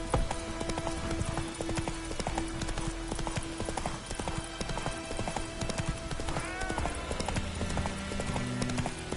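Horse Roach's hooves clip-clop steadily in The Witcher 3, a rhythmic stream of close hoofbeats with a brief whinny, under game music and ambience and some talk.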